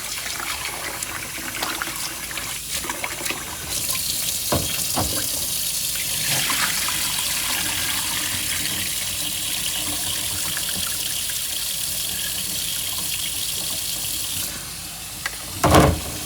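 Rice being rinsed under a running kitchen tap, with a steady stream of water splashing into a sink; continuous, fairly close hissing flow with a brief louder splash near the end, and no talking.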